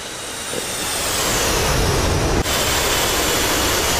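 Aircraft roaring low over trees on final approach in the DCS World flight simulator, a loud steady jet rush that builds and holds, with a brief thud of touchdown midway.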